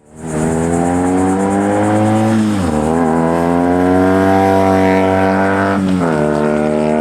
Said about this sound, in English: let's go ahead and do some riding, and I can actually show you what it sounds like under some load